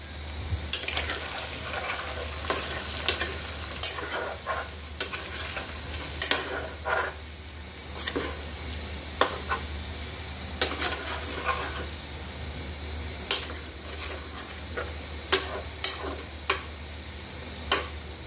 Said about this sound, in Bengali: এবার আলুটাকে একদম লাল লাল করে ভেজে নিতে হবে।